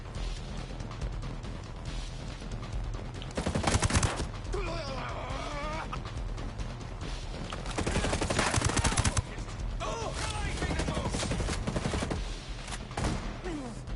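Rapid bursts of automatic gunfire from the video game Ghost Recon Breakpoint, loud sustained volleys with short pauses between them, under faint background game sounds.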